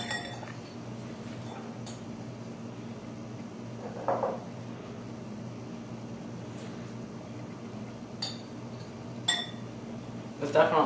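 A glass container being moved in a kitchen clinks in a few brief, sharp taps spread across the stretch, over a low steady hum with faint talk.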